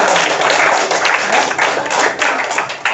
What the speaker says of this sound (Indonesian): Betul, tepuk tangan nih.